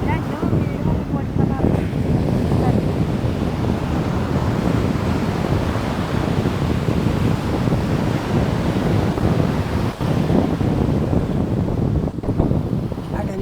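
Sea surf on the shore near Arthunkal in Kerala roars in a continuous wash, heavily mixed with wind buffeting the microphone, with faint voices now and then.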